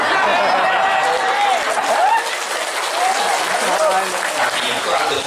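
Clapping from a crowd during an Islamic sermon gathering, continuous applause mixed with chatter and voices talking over it.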